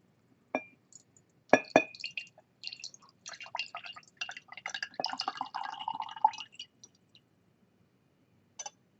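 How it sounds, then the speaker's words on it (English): Absinthe is poured into a rocks glass, giving a few clinks of glass followed by a trickling, dripping pour that runs for several seconds, fairly close and quiet, then a final small clink. "So what happens when I put it in a rocks glass?"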